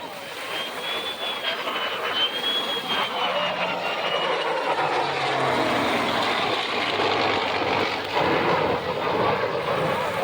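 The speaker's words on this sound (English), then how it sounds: "The jet's got to throttle back, and the prop plane is going to full bore." A P-51 propeller plane and an F-35 jet fly together overhead in a heritage flight, a loud sustained engine roar and whine that builds and holds steady throughout, with no talking.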